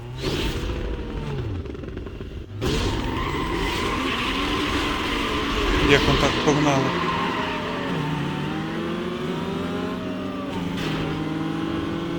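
A race car engine in Need for Speed Most Wanted revs up loudly, rising and falling tones with tire squeal and skidding, after a brief dip, with game sound throughout.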